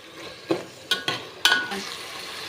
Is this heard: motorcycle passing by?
no